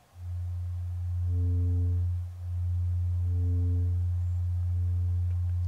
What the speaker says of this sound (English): there's a 90 hertz signal going into it